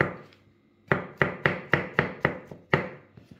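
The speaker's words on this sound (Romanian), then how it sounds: "Și acum le tăiem și ciupercile" Knife chopping mushrooms into cubes on a cutting board, a run of about eight crisp, evenly spaced chops, close and clear, with no talk.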